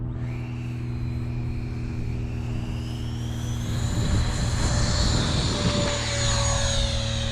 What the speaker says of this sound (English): Oh, got a real airplane up here.